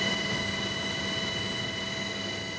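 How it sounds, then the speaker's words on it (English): A rescue helicopter flies during hurricane relief, its engine and rotors making a steady, dense mechanical roar with a whining turbine tone, constant and moderately loud throughout. "grateful as the helicopter descended to bring them in"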